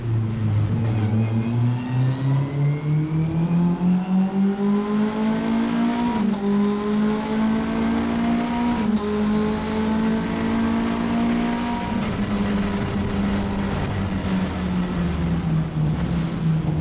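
A Mitjet race car engine at Magny-Cours accelerates in the rain, its loud onboard drone rising steadily in pitch through the gears, briefly dipping at shifts, with wind and spray noise throughout.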